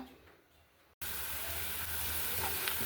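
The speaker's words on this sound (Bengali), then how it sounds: "প্রথমে আমি এই যে পেঁয়াজ আর এই যে কাঁচামরিচ একটু হালকা তেলে ভেজে নিব" Onions and green chillies hit a little hot oil in a pan and burst into a loud, steady sizzle that starts suddenly and keeps hissing close by.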